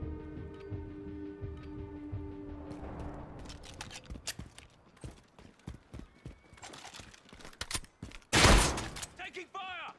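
Call of Duty: Modern Warfare gunfire crackles in rapid, scattered bursts of sharp shots that grow denser and louder, with a heavy blast near the end over a murky background.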